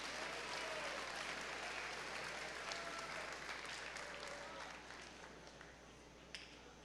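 Steady applause from a large audience at a high school honors awards assembly fills the whole stretch, dense clapping that tapers slightly toward the end.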